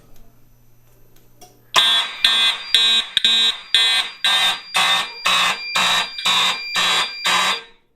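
A Siemens fire alarm sounds during a system test, a loud repeating electronic tone in about ten evenly spaced bursts following a quiet start, with a person briefly speaking.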